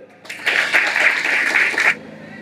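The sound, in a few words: audience applause, loud clapping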